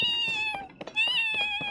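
A human voice imitating a cat, giving a pair of drawn-out high meows as a friendly greeting, close and clear with a short pause between them.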